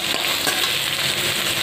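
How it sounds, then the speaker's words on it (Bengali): Potatoes fry in a wok that already holds a tempering of bay leaf, green chili and dried red chili, giving a close, steady, dense sizzle that holds unbroken for the whole stretch. "আলু কটা ভেজে নেবো"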